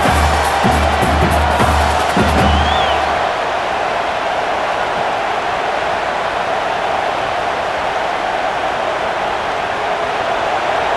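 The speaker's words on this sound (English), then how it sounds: "listen to this crowd noise. This stadium is vibrating." Stadium crowd noise from NCAA College Football 26, a dense, constant roar of a packed venue, with a few brief rhythmic thumps early on before the wash of noise continues alone.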